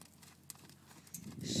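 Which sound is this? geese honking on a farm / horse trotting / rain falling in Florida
horse trotting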